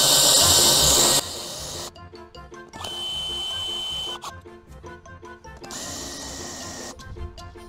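A cordless drill/screwdriver cranks up a Dux Camper cabin being loaded onto a pickup truck, giving close mechanical whirring in repeated short bursts separated by brief pauses.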